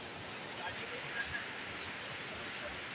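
A Konkan stream flows near a waterfall, a faint, even rush of water that continues unbroken throughout.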